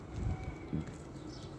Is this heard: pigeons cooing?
yes